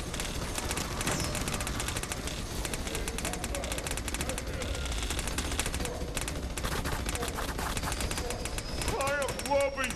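Rapid continuous gunfire from Montana's gun in Battleborn, a steady dense rattle of shots over a busy game mix, with a voice calling out over it.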